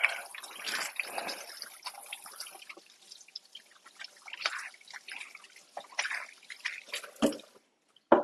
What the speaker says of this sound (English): Hands a quick rinse.